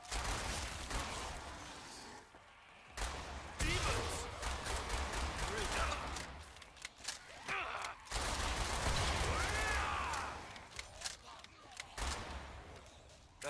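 Gunfire in the shooter Killing Floor 2: dense, rapid bursts of automatic fire and blasts in long loud stretches broken by brief pauses, with a game character's voice shouting over the shooting.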